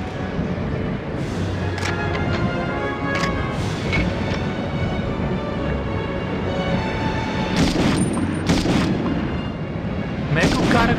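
Loud, booming gunfire and explosions from the PlayStation 1 game Medal of Honor crack repeatedly over a dense, rumbling battle soundscape, with sharp bursts standing out near the end.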